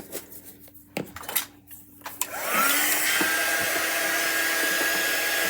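A handheld dryer switches on after a few clinks of brush and cutlery, then blows in a steady, loud whir that rises in pitch as it spins up while drying chalk paint on a craft project.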